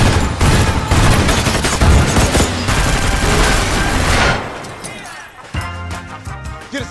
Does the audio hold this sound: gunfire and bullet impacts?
yes